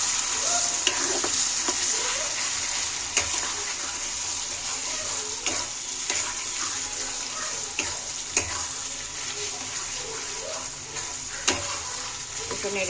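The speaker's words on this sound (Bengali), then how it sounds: "এখন একটু তেল দিব, মানে ফোড়ন দিব আর কি।" Hot oil tempering with hilsa fish bones crackles in a pan, a bright, steady sizzle with sharp pops and occasional stirring scrapes close by.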